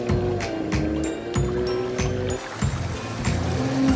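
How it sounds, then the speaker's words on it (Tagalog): Babbling stream water in a cartoon, a steady close wash of flowing and splashing water with a soft melodic music line running underneath throughout. "Ang linaw ng tubig at ang sarap pakinggan ng lagaslas."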